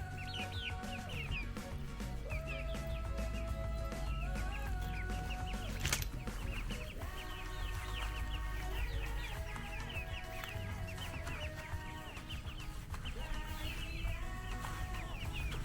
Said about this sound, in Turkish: 3 tane siyah 3 tane beyaz tavuğumuz var